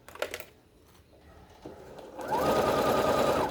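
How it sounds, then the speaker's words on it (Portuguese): A sewing machine stitching a French seam on a cushion cover, starting with a few soft clicks and handling noises, then running steadily in a loud, close, continuous whir. "Já posicionei e já tô fazendo a costura aqui"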